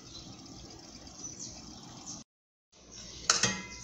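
Pickled peppers are stirred and drained in a pot of hot water, with a hissing rush of water and clinking metal, a brief silent gap, then a sharp clank of the pot near the end.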